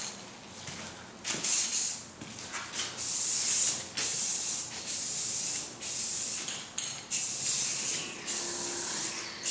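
Spray paint can coating car interior dash trim, a series of close hissing bursts of varying length separated by brief gaps, with no talk.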